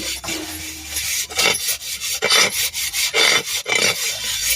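Dishes and utensils are scrubbed by hand in a home kitchen, giving loud, close, rhythmic rasping strokes that repeat steadily without pause.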